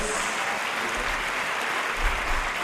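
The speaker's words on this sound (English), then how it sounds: "Give another round of applause to our ELA scholars." A crowd at an 8th grade moving-up ceremony gives a steady, sustained round of applause for ELA scholars, dense and even throughout with no talking.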